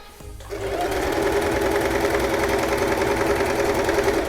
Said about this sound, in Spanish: Cuando termino, coso un poquito por encima de la costura donde empecé y hago reversa.